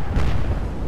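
A battleship in Atlantic Fleet fires a full salvo from all five guns, one heavy, deep booming blast with a rumbling tail, close and loud, no voices.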